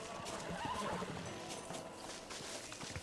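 In Red Dead Redemption on PS3, a horse whinnies once, fairly quietly, with clip-clop hoofbeats and faint game ambience around it.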